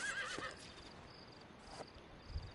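Horse neighing in Red Dead Redemption, a faint short whinny near the start followed by quiet ambience and a soft thump.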